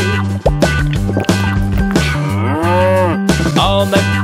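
A cartoonish cow moos in a children's nursery song, one long bending moo over a bouncy musical backing with steady rhythmic beats.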